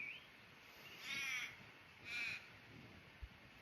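Crows outdoors give two harsh, ringing caws about a second apart, each lasting roughly half a second, at moderate distance over a quiet background.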